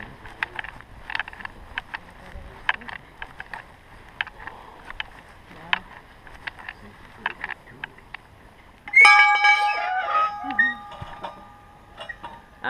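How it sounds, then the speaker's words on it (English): An Amish farm dinner bell at Yoder's Amish Home rings out suddenly and loudly after a stretch of faint scattered clicks, its bright ringing tone holding and then fading over the last few seconds. "That's the dinner bell."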